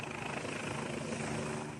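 Gendarmerie rescue helicopter at a ski area in the Hautes-Alpes and Savoie, a continuous loud rotor and engine roar with a steady churning beat and no voices.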